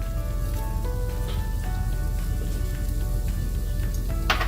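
Broccoli and onions fry in a hot pan while shrimp and broccoli egg fried rice is cooked, a loud, steady sizzle with a brief clatter near the end.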